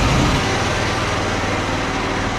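An electric nibbler cuts a hole in the top of an empty metal tank, a loud, steady, dense grinding clatter that fills the whole stretch, hollow and amplified by the tank.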